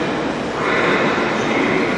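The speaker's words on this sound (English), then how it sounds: "The train is now almost ready to depart from platform 4." A train standing at a station platform gives off a steady, loud rumble of engine and rail noise, with a continuous hum that swells slightly partway through and carries no speech.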